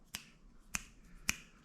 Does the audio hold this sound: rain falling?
no